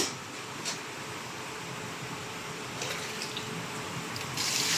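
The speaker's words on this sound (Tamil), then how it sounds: "இப்போ தண்ணியை சேர்த்துக்கலாம்" A quiet, steady hiss of water poured into a cooking pot while making chicken maqluba, continuous and close, with faint clinks near the start and end.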